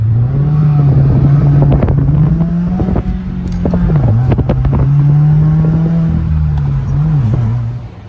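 A Toyota Supra with a Tomei exhaust pulls hard, its loud, close engine drone climbing in pitch, dipping briefly at gear changes, then climbing again before easing off at the end.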